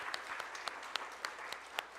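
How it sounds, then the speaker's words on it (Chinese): A church congregation at a Sunday worship service claps in unison to welcome new members, producing steady, evenly spaced claps heard from a moderate distance with no talk. "我们弟兄姐妹我们来拍手来欢迎他们进入到我们的荣光堂的"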